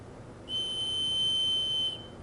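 A high, steady whistle of air escaping from a leaking pressure fitting starts abruptly, holds for about a second and a half, then cuts off.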